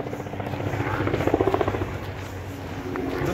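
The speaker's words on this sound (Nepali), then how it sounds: "मेरो हेलिकप्टर मलाई लिन आयो" A helicopter passes overhead in Slovenia, its rotor thumping in a rapid rhythmic pulse that swells to a peak midway and then eases back into a steady engine drone.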